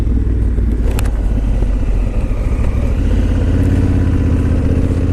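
Honda Africa Twin motorcycle with an aftermarket exhaust, a loud, steady, throbbing engine note running close by for the whole stretch without talk.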